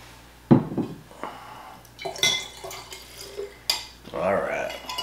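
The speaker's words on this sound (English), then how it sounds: "we immediately take a nice 2 ounce jigger, pour it into our infinity bottle here" Bourbon from a 2-ounce jigger going into an infinity bottle: a few glassy clinks and knocks, then a short close-up trickle of liquid near the end, in a quiet room.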